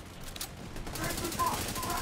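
Rapid gunfire from several players in a Division 2 raid, a dense, steady stream of shots with voices talking over it throughout.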